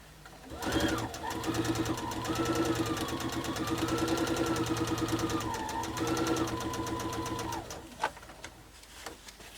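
A sewing machine stitches quilt block borders for a four-patch block in a steady, rapid mechanical run lasting several seconds, close and continuous, before stopping abruptly with a few clicks.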